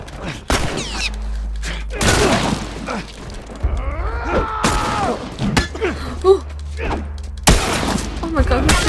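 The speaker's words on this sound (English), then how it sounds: "who's shooting me?" Gunfire in The Last of Us comes as a series of loud, sharp bursts and thuds spread irregularly across the scene, mixed with mechanical clatter, with voices over parts of it.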